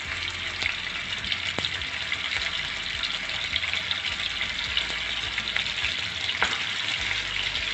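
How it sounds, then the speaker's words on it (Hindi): Seekh kebabs fry in a pan of oil with a steady sizzle and scattered small pops and crackles, close by, with no talking. "अब हम एक एक करके इसको अपने सीख कबाब को इसमें फ्राई करते जाएंगे।"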